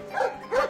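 Two short yapping barks from a cartoon dog, well spaced over under a second, fairly close and clear, with no talk over them.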